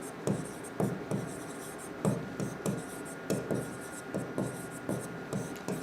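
Chalk or marker taps and scratches out words on a classroom board during a physics lesson on semiconductors, in short rhythmic bursts of strokes with brief pauses between them, close and moderately loud.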